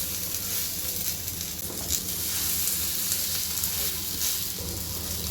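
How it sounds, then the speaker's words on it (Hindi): Semolina-batter toast fries in oil on a hot pan, giving a steady, close sizzle that holds level throughout with small crackles and no talking. "बाकी टोस्ट को भी इसी तरह से सेक लेंगे"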